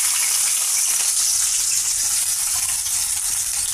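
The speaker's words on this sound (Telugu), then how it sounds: "ఆయిల్లో పెద్దల్లిపాయ పీసెస్, పచ్చిమిర్చి యాడ్ చేసామండి. చూస్తున్నారు కదా, ఇవి ఫ్రై అవుతున్నాయి." Onion pieces and green chillies fry in hot oil for a curry, giving a loud, steady, close-up sizzle without a break.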